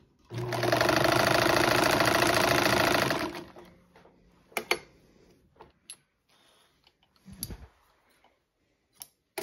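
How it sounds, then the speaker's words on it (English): A Kenmore 158.480 sewing machine stitching fabric, a loud close mechanical whir for about three seconds, then scattered clicks and small handling knocks as the work stops. "So we're gonna sew this and see if we need to adjust the upper tension at all."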